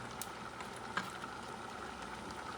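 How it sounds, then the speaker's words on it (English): Cream sauce for steak au poivre simmers in a pan, giving a steady, soft bubbling hiss that runs the whole time, with one small tap partway through. "Now that it's simmering, I'm going to put the heat to medium."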